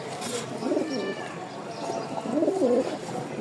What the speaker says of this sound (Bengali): খুব ভালো জাতের একটা কবুতর